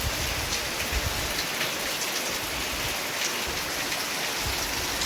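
Heavy rain pours down steadily outdoors in a village, a dense, loud, unbroken hiss of drops hitting surfaces with no voices.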